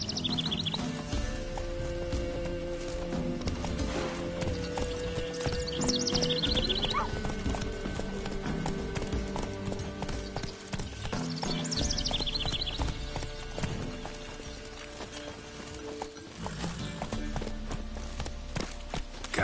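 Roach, the horse in The Witcher 3: Wild Hunt, gallops with steady rapid clip-clop hoofbeats running continuously and fairly loud, with a couple of whinnies and game music and ambience underneath.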